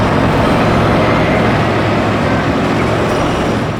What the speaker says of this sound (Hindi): ट्रक भी आ गया।